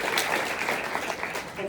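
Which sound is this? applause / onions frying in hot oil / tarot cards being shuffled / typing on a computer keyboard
applause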